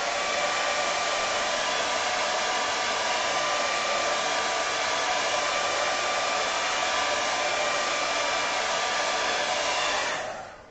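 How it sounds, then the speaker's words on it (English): A hairdryer blows over wet watercolour paint, a loud, steady whooshing roar held close for about ten seconds before it switches off and fades. "I'll just give it another blast with a hairdryer."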